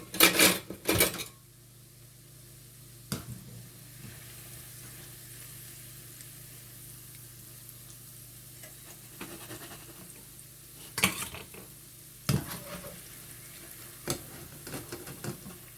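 Chicken balls for sweet and sour chicken frying in a pot of oil, a steady low bubbling sizzle broken by loud metal clanks of utensils against the pan at the start and a few more later.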